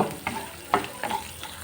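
Spices lightly frying in oil for a fish curry, with soft sizzling and a few sharp scraping stirs of a spoon in the pan, close and quiet, no voices.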